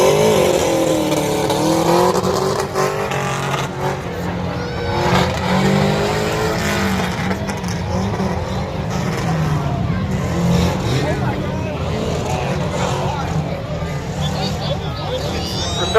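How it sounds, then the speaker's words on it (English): A 1986 Subaru Brat running at a tuff truck motorsports event in Gap, PA, its engine droning and revving steadily across the clip with rising and falling pitch, under loud announcer commentary. "Chris Jumper's up next down at Gap, PA in the 86 Subaru Brat."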